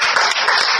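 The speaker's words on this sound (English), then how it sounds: "Let's give her another round of applause." Brief burst of loud, close audience applause at a science teaching event, dense overlapping claps with no voices.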